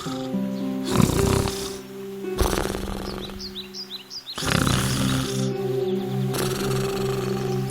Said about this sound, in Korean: 늑대는 그곳 나무 아래 누워 코를 골며 잠을 자기 시작했어요